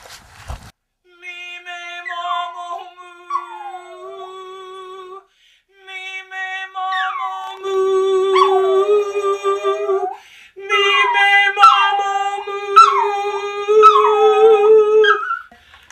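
A small long-haired chihuahua howls nearby in long, wavering, sliding cries, pausing between bursts, with steady sung notes held beneath.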